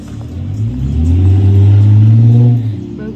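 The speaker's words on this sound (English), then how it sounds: "Aku pulang pakai motor." A motorbike engine rumbles and revs steadily on a ride home near Stratford Station, loud and close, swelling then easing off, with no talk.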